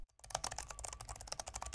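Rapid typing on an Alienware X16 gaming laptop's loud keyboard, a dense, steady patter of crisp key clicks after a brief silent start, close and alone.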